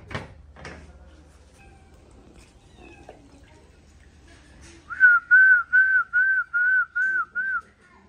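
A person whistles to scare off crows in a Pakistani village: seven short, loud whistle blasts in a steady run, following a quieter stretch with a couple of sharp knocks near the start.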